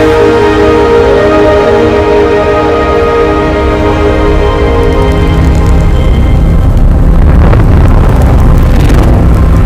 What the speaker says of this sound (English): They are literally the sounds of space ringing.